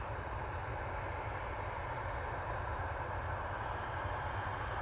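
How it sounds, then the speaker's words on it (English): KLM passenger airliner near Manchester Airport, a faint, steady low rumble of jet engines heard from a distance with no other sounds. "Just had a KLM come near us"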